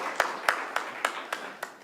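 A small audience at an Orange County coronavirus press conference claps slowly, six or so distinct, evenly spaced claps ringing in a reverberant room, brief and modest.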